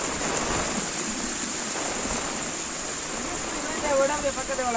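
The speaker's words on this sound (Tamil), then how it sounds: "இந்த தண்ணியெல்லாம் இங்கே இருந்து அடிச்சு கொண்டிருக்கு" Heavy rain in Jaffna: water rushes and gushes in a dense, continuous roar, like heavy rain or runoff pouring nearby, steady and loud.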